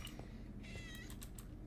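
A cat meows a few times, short upper-pitched calls close by over a steady low background hum.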